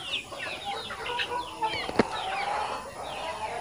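Hens clucking on a farm, several soft, faint calls scattered across a few seconds, with one sharp knock midway and a light rustle of wings.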